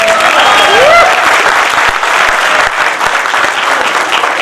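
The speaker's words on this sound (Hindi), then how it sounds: "ताली उस हिसाब से बजे कि लगे कि हिंदुस्तान की ताली बजे" Audience clapping at a Hindi comic poetry gathering, a loud, thick, unbroken roar of many hands from a large crowd, with a brief tonal swoop near the start.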